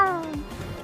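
A person mimics a cat's meow with a short, rising-then-falling whine lasting under a second, clear and close, with a little background noise after.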